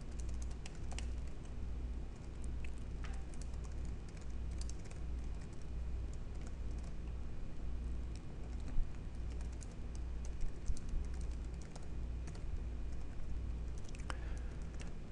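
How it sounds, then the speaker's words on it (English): Typing on a computer keyboard, a quiet steady patter of keystrokes running throughout beneath a low background hum, with a few slightly louder taps near the end. "you can type whatever you want."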